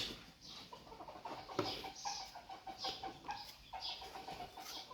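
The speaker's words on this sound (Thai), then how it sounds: "มีไก่ขาวไก่ยาง" Several chickens, white hens and speckled ones, cluck and murmur softly and continuously at a quiet level, with some short, brighter calls scattered through a low background of rustling.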